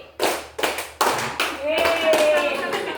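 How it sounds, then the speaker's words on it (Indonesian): Rhythmic hand clapping in patterned groups of claps, loud and close, from a teachers' training session audience, with a sustained tone and talk mixed in toward the end. "tepuk tangan yang meriah"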